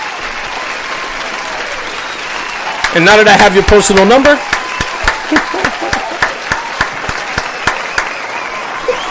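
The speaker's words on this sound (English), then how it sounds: "Applause to Eric." Applause on a radio talk show, a short burst of clapping and cheering from a small crowd that thins into scattered single claps, with a host talking over it.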